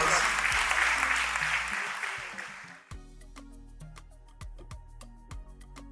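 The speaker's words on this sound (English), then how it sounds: "Another round of applause" Audience applause at a foundation inauguration ceremony with dignitaries, clapping for the first three seconds, then giving way to music with a deep thudding beat and sharp percussive hits.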